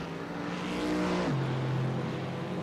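An Aston Martin safety car pulling away at Hockenheim during an F3A Racekraft Euro Series race, its engine note climbing then dropping through a gear change as it moves off at moderate distance.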